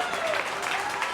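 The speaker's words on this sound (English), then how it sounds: "No, yeah, keep clapping. I ain't say stop." An audience at a live comedy show in New York City claps steadily in a dense, even patter that holds throughout.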